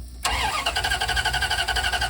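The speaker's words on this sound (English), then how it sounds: "The car won't start. It's just turning over but not starting." A car engine cranks without catching after breaking down in a small Florida town: a sudden start followed by a rapid, regular whirring starter rhythm, loud and close, with no voices.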